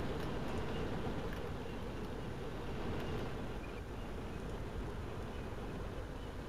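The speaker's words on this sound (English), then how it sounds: "I guess they don't know if what they're hearing is Abrams, but you can probably tell by the turbine engine." Turbine engine of an Abrams tank in the video game Combat Mission, a steady low rumble with faint whine that runs without pause, moderately distant and without speech.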